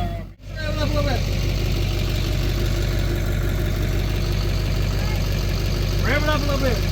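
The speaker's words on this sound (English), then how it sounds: "Rev it up a little bit." Engine of a Timberjack 450c log skidder, left sitting since 2007, idles with a steady low rumble throughout, rising into two brief revs near the start and end, with people talking faintly over it.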